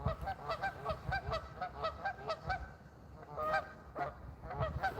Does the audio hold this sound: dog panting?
no